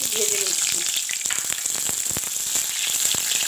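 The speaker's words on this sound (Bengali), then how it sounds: "এবার আলুগুলো ভেজে নিচ্ছি।" Long-cut potato pieces frying in hot oil in a home kitchen, giving a steady close sizzle with dense crackles and pops that carries on alone.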